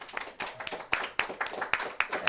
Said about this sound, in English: Let's give them a round of applause and show them over here.